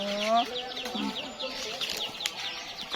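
Chickens cluck and flap their wings nearby in a busy, irregular patter, with a brief voiced sound at the start.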